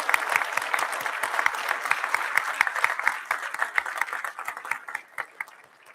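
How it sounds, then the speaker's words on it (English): An audience applauds at a Boston Fire Academy recruit graduation ceremony, with individual claps standing out in a fairly even rhythm. The clapping thins and fades over the last couple of seconds. "join me in giving a round of applause to all of your family, friends, and loved ones"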